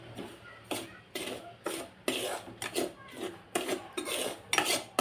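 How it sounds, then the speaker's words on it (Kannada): Semolina (rava) roasting in a pan for upma and being stirred, heard as rhythmic scraping strokes of a spoon against the metal pan, about two per second, close and fairly quiet, with no voices. "ರವೆ ಐತ್ರಲ್ಲ ಅದನ್ನು ಸ್ವಲ್ಪ ನೀಟಾಗಿ ಹುರ್ಕೋಬೇಕು ರೀ"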